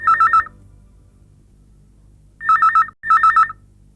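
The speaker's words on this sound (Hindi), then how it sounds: "और फिर अचानक फोन की घंटी बज उठी।" A telephone rings in three bursts of electronic trilling tones, one short ring then a pause before two more back to back, loud and close over a low hum.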